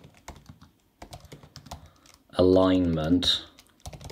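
Keys clatter in quick, uneven bursts on a computer keyboard as an Excel macro is recorded, while a person talks and a brief loud tonal sound cuts in near the end.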